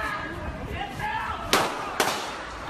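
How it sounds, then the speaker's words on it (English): A police officer fires two loud, sharp gunshots about half a second apart at an outdoor scene, heard over a busy background of voices and noise. "prompting the officer to fire."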